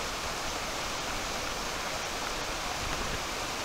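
A river flows through a canyon at a rockhounding site, a steady, loud, broadband rush of moving water with no breaks or voices.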